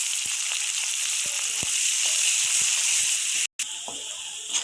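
Onions sizzle steadily in hot oil for a Bengali-style chicken kosha, with bay leaf, sugar, cloves and cardamom already in the pan. A loud, even hiss runs throughout, broken by light stirring clicks and a brief gap near the end.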